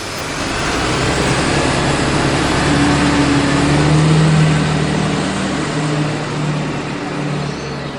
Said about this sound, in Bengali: বাসটা তখনই গর্জন করতে করতে জোরে চলে গেল